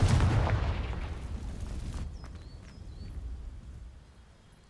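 In the game Hogwarts Legacy, the Confringo fire spell blasts dry vines with a loud booming burst at the start, followed by a fading rumble and faint crackle as the flames die down.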